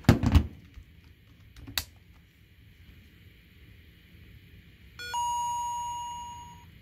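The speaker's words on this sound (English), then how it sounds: "Did you hear that? It booted up very, very slow." A Game Boy Advance fitted with a variable speed switch and dial boots up at very slow speed; after some handling clicks, a slowed-down, drawn-out chime rings out and holds for nearly two seconds.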